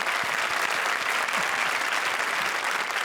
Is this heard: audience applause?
yes